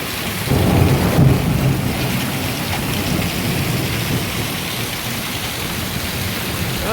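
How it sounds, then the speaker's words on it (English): Heavy rain and hail pour down without a break in a loud, dense roar over a Johannesburg vegetable garden during a severe hailstorm, with a low rumble of thunder swelling early on beneath the steady downpour. "this is to give you an idea of the volume of water coming down"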